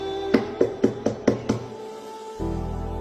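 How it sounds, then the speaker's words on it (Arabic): Six quick, even knocks rap on a house door, sharp and close in a steady rhythm, followed by a pause and a low hum. "يوم اللي يندق بابك هيك"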